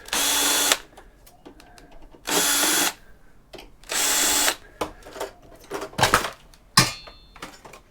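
A power drill whirs in three loud, steady bursts while backing screws out of a scrap server, with clattering metal handling and clicks in between.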